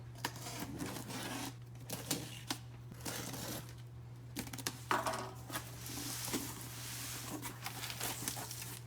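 Board game and puzzle boxes being cut open with a blade, close crinkly scraping and slicing bursts with plastic-wrap rustle, irregular taps and rips throughout, over a steady low hum.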